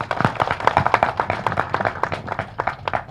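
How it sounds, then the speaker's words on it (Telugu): An audience at a movie teaser launch for the film Psycho claps hard and steadily, with dense, crisp hand claps close by and no talking over them. "ఒకసారి గట్టిగా చప్పట్లు కొట్టాలి"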